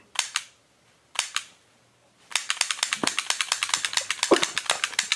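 A toy gun fires a rapid series of sharp, dry snaps. Two short bursts come first, then a longer continuous string of quick pops, close and fairly loud, with no talking over them.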